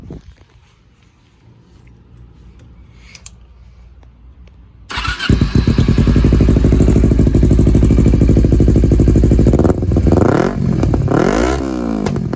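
Kawasaki Ninja 250R motorcycle with the exhaust dB killer removed starts up and idles loudly, then revs hard several times with rising and falling engine pitch, close and alone with no talk.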